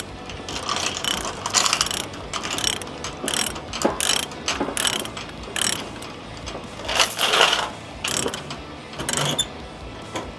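A ratchet binder clicks in repeated bursts as it is cranked down to tighten chains securing heavy equipment on a step deck trailer, the close metallic ratcheting coming in uneven strokes with short pauses.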